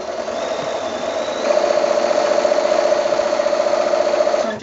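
A sewing machine runs steadily while stitching a quilt border seam with a quarter inch seam allowance, its motor hum and rapid needle rhythm getting louder partway through and continuing close and alone to the end.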